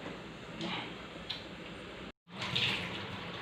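Water runs steadily from a tap as cooked tree legume pods are rinsed under it, with a brief cutoff midway before the splashing flow resumes.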